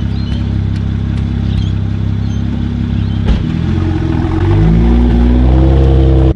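A tuned BMW 335i turbo engine idles with a low rumble, then a sharp exhaust pop and the engine revs up loudly, close by.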